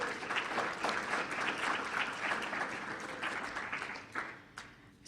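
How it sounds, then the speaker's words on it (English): A room full of people claps in a round of applause at a biomedical engineering session, the sustained mass of clapping fairly soft and distant, thinning toward the end with a few last isolated claps. "we need to give a big round of applause to Terry Young"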